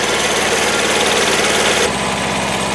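A Kubota tractor engine chugs loudly and steadily during a potato harvest, close and rhythmic, its pitch dropping slightly near the end, with no talking.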